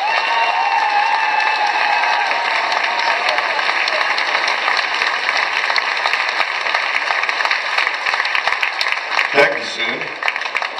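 A festival crowd at a Hall of Fame honours ceremony applauds loudly and steadily for about ten seconds, dense clapping with cheering and shouts mixed in and a steady tonal hum underneath.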